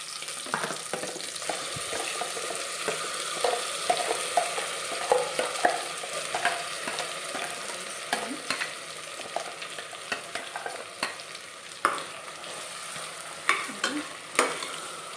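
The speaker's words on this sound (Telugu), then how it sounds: "ఇప్పుడు ఇవి ఫ్రై అవుతుండగా మనం రుబ్బి పెట్టుకున్న మసాలా" Ground masala frying for a chickpea curry, a steady sizzle with repeated scrapes and clicks of a spoon stirring the pan, fairly close, with no voices.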